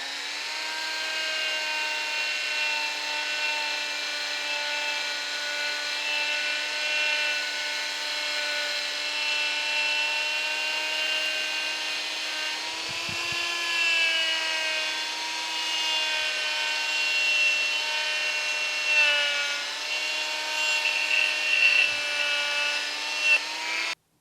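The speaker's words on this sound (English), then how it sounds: "to clean these little snap ring grooves out, I'm just using a little tiny, I guess it's a wire wheel" Small, gentle rotary wire wheel cleaning snap ring grooves on a restored Porsche 356 seat hinge, a continuous steady high tool whine running over twenty seconds, with slight pitch dips where the wheel meets the metal.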